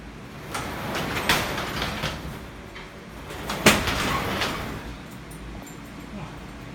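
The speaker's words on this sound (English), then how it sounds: "I'll shut the door here so I don't let all the heat out." A shop door being slid shut in a heated workshop unit, with a couple of rolling, rattling bursts and a sharper knock near the middle, fairly quiet against a low background hum.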